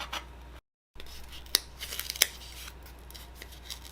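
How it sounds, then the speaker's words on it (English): An X-Acto knife cuts a circle out of a Dollar Tree glass decoration, making sharp scratchy scrapes and a few distinct clicks. The cutting is close and quiet, with a short silent gap near the start. "Just take an X-Acto knife and cut out that circle."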